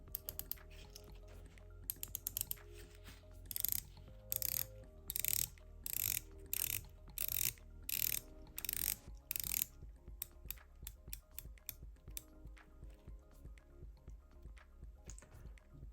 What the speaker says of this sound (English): This watch features a 120 click unidirectional bezel.